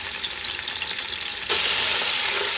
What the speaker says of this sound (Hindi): अब चिकन को जो है हम 1-2 मिनट के लिए ऑयल और प्याज में फ्राई करेंगे